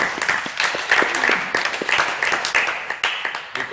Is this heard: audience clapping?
yes